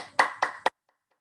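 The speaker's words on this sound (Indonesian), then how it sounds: "Mari kita berikan tepuk tangan yang meriah." Three sharp hand claps in quick succession, close and dry, then silence, offered as audience applause during an online meeting.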